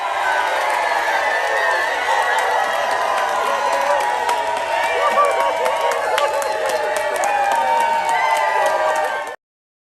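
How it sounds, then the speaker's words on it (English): A large crowd cheers and applauds in a played recording, dense clapping mixed with whoops and shouts, loud and sustained for about nine seconds before cutting off abruptly. "Just imagine all those people, and they are here cheering you on"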